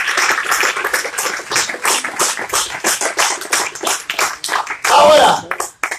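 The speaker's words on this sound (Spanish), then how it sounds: "Él es un fuerte aplauso al Señor." Worshippers at an evangelical church service clap amid loud shouting and speech, the hand claps forming an uneven, busy layer under the voices, with a sharper burst near the end.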